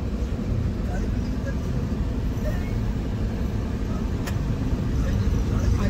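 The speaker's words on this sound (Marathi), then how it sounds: "आम्ही ट्रॅफिकमध्ये अडकलेलो आहे इकडे." A car stuck in a traffic jam on a trip gives a steady low rumble of engine and road noise that stays even throughout, with no distinct passing vehicles.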